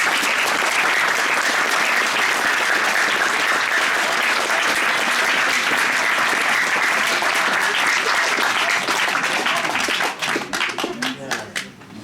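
A crowd at the opening of a poetry path applauds in sustained, even clapping for about ten seconds before it thins into scattered final claps.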